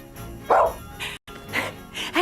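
A dog gives a few short barks and yips in an office Christmas party setting, close and fairly loud, with a brief gap midway.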